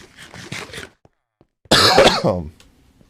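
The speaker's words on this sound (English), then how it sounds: "I wish the cough would stop" A few short coughs, a pause, then a harsh, louder fit of coughing up close, followed by quiet.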